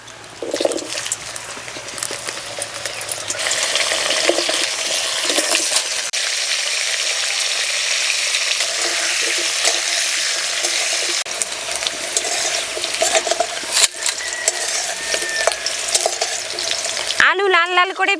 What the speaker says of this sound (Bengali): ওই তেলেই আলু ভেজে নেব।